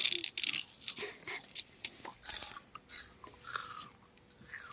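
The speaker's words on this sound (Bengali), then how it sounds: "আখ খাওয়া হচ্ছে দেখুন।" Someone chews sugarcane up close, with crisp crunching bites, tearing and wet fibrous chewing in irregular bursts separated by short pauses.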